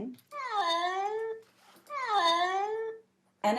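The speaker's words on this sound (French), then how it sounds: "quand il est dans sa cage de transport pour aller chez le vétérinaire, son miaulement est complètement différent" A cat in a transport carrier gives two long, drawn-out meows with a wailing, descending tone, each lasting over a second and separated by a short pause, heard clearly and close.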